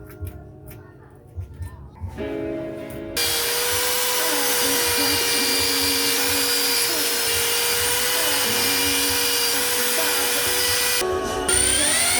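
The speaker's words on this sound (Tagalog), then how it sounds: "Ito yung favorite kong party, yung pagbabarena." After a few seconds of quieter background and a voice, a loud whining power drill starts and runs steadily indoors at home, with a brief change near the end.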